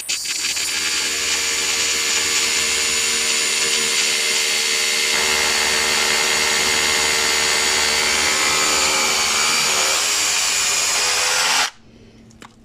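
A FERM cordless drill bought from Action bores into a concrete slab, a loud, steady high-pitched whine and grinding that runs for about twelve seconds before cutting off abruptly.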